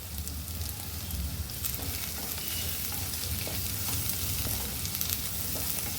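Vegetables for an elbow-pasta evening snack sauté in a hot pan with chili powder, giving a steady, close, loud sizzle and crackle that runs unbroken throughout with no voices.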